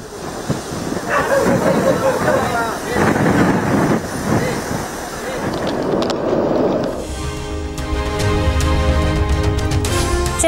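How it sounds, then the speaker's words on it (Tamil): Loud cyclone gale wind on the Chennai ECR coast buffeting the microphone in roaring gusts, then shifting to a steadier mechanical-sounding rumble with hiss toward the end. "சென்னை ECR கடற்கரை பகுதிகளை கதிகலங்க வைத்த சூறை காற்று"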